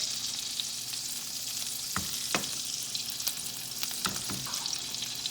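Salmon fillet frying skin side down in clarified butter, a dense, even crackling sizzle that holds steady throughout, with a few brief clicks and taps of utensils, close and moderately quiet, no talking.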